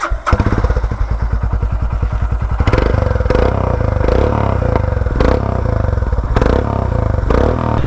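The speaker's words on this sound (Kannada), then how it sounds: "ಬನ್ನಿ ಆನ್ ಮಾಡಿಬಿಟ್ಟು ಇದ್ರ ಎಕ್ಸಾಸ್ಟ್ ಒಂದು ಸರಿ ತೋರಿಸ್ತೀನಿ ಹೆಂಗಿದೆ ಸೌಂಡ್ ಅಂತ" A Royal Enfield Scram 411 with a Red Rooster aftermarket silencer starts up close, its exhaust thumping in a quick rhythmic chug that settles into a loud, steady idle with occasional heavier pops.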